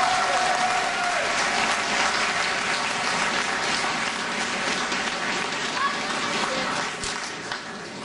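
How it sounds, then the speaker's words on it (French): Crowd applause for campaign activists at a municipal election new-year rally in Asnières, a sustained wash of clapping from a packed audience that stays loud and even before easing slightly near the end. "Des applaudissements pour nos militants."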